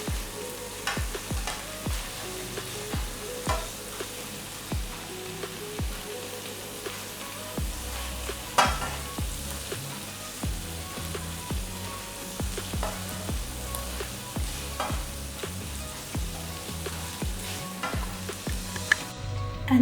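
Pointed gourd pieces in a drying mustard gravy fry noisily in a pan, a steady close sizzle broken by frequent scraping stirs of a spatula, with no voices.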